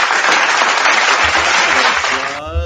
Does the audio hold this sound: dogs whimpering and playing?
no